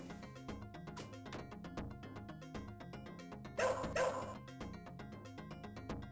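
Ninja Dog attack bark from the Shadow Dancer arcade game: a brief burst of barking rises midway through, over steady, loud, rhythmic game music.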